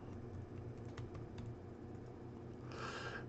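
Fingers tap out a command on a computer keyboard in quick close keystrokes, a soft rapid clatter that trails off and then comes back as a short flurry near the end, with no voices.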